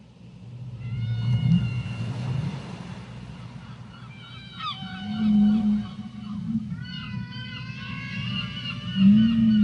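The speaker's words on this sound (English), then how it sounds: "The steady rhythm of the waves, the cries from the seagulls overhead, and the loud songs of whales from beneath the surface." Whale songs rise and swoop over a steady roar of ocean waves, with high seagull-like cries overhead; the calls repeat several times, loud and close, with no voices.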